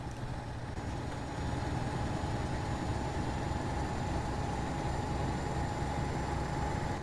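A MAZ 6422M truck engine in Euro Truck Simulator 2 pulls slowly up to speed, a steady loud low rumble with a faint high whine, heard alone without talk.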